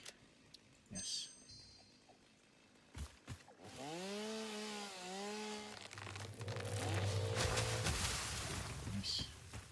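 A chainsaw tool in the factory-building video game Satisfactory buzzes as a rough, loud, building drone under voices talking, with scattered clicks and taps beforehand.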